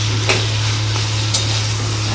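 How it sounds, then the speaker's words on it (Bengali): Taro greens cooked with a hilsa fish head are stirred in a pan, giving a steady low sizzle with a couple of sharp spatula scrapes against the metal under a constant hum. "এটাকে এখন নেড়ে আর একটু টানিয়ে নেবো, নিয়ে নামিয়ে নেবো।"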